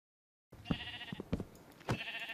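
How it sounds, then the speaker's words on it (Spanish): Sheep in the Minecraft video game bleat three times in quick succession, each short and clear against quiet game ambience, with no talking. "oveja quita del medio"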